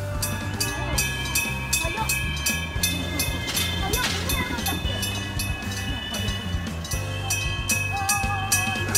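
A level crossing bell on the Kumamoto Electric Railway rings in a rapid, regular repeating pattern over a low hum, with people talking at the same time.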